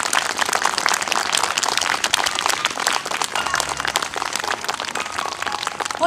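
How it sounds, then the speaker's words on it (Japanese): An outdoor audience at an evening concert under the stars applauds, a dense, steady wash of many hands clapping at once, sustained and fairly loud without a break. "皆さん大きな拍手をお願いいたします"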